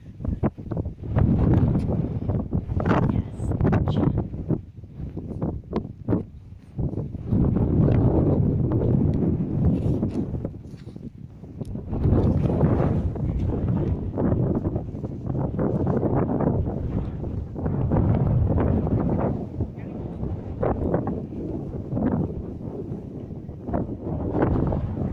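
Cold wind blowing across a beach between Crosby and Waterloo near Liverpool, buffeting the microphone in loud, roaring gusts that rise and fall over the whole stretch.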